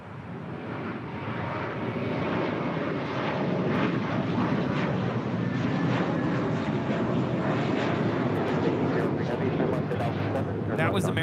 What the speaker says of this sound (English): That was American 1315 departing to Atlanta on an A321.